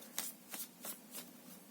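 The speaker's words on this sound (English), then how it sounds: "And let's give it one more shuffle" Oracle cards being shuffled by hand, four quick soft riffling bursts at an even rhythm, faint and close in a quiet room.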